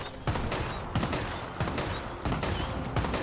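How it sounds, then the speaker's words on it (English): Grenade launcher firing in Fallout 76, a steady run of sharp, booming launches repeating about every half second to second, loud and close with continuous battle noise between them. "just a little bit of nade launcher"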